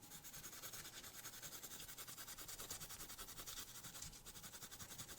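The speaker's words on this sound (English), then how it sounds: "I'm going to do a little bit of sanding on this thing." Rapid, steady back-and-forth sanding on a zinc die-cast toy car, a rhythmic rasping scrape on metal repeating quickly and evenly throughout at close range.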